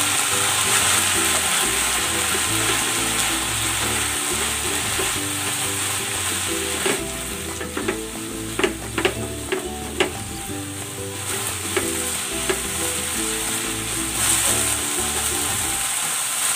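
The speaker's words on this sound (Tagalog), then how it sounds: "Ilalagay ko na dito yung hiniwa nating talong." Sliced eggplant fries in a pan with a steady, close sizzle throughout, punctuated by occasional scrapes and clicks of stirring in the middle stretch; no voices.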